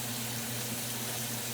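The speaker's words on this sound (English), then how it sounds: "Get some hot water going." Hot water runs steadily from a kitchen tap, a soft continuous hiss with a low hum underneath, fairly quiet and unbroken, with no voices.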